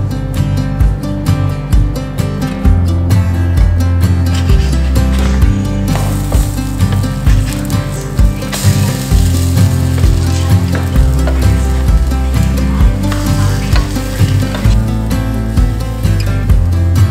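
Corn fritters fry in avocado oil on a stovetop like pancakes, with a loud, continuous crackling sizzle and dense popping, close and without any voices.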